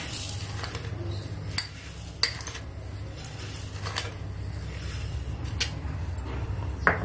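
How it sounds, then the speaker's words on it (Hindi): Four spoonfuls of sugar go onto bananas for a banana shake: a handful of light, sparse spoon clinks and taps over a steady low background hum, with no talking. "यहाँ पे मैं डालूंगी इसमें 4 चम्मच चीनी।"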